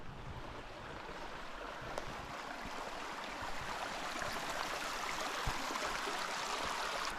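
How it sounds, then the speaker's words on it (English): A babbling brook beside a campsite runs in a steady, close rushing hiss of water that builds slightly and never pauses. "I get to fall asleep to the sounds of a babbling brook"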